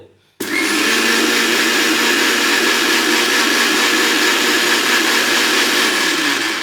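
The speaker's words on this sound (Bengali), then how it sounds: "এখন আমি ব্লেন্ডারটাকে চালিয়ে দেবো" A blender switches on abruptly and runs at a steady, loud whirring roar without pause for several seconds.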